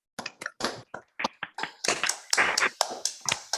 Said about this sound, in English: unmute and let's do give him a warm round of applause.